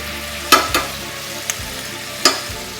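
Pan sauce of leftover butter, garlic and white wine cooking in a pan, heard as a low sizzle with a few sharp clinks and scrapes of stirring spaced through the moment.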